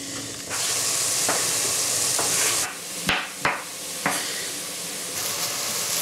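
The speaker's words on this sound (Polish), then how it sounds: "Wrzucamy je do gara i razem z cebulą dusimy na mocnym ogniu około 10 minut." Mushrooms and onion sizzle steadily in a pot over high heat, with a continuous bright frying hiss broken by a few sharp scrapes and knocks of stirring against the pot.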